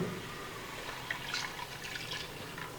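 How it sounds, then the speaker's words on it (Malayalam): Soft liquid sounds of coconut milk being poured into a pot of fish curry, with faint drips and trickles over a quiet background hum. "രണ്ടാം പാൽ ഒഴിക്കാം ഒഴിച്ചോ"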